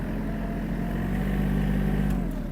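The small engine of a Kubota GL-300 mini tractor runs steadily in second gear, a loud, close, continuous throbbing drone with no talk over it.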